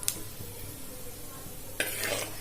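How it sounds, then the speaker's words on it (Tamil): Fennel seeds crackle and sizzle in hot oil in a pan, a soft steady frying hiss with light stirring and utensil clinks, growing brighter and busier near the end. "சோம்பு பொரிய ஆரம்பிக்குது."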